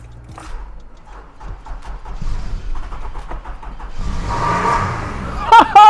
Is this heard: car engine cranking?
yes